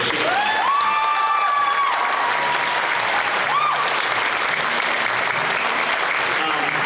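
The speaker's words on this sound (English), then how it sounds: "So give a round of applause to her." Sustained audience applause at a band concert in Fairbanks, steady and full throughout, with a few brief whistles and faint voices mixed into the clapping.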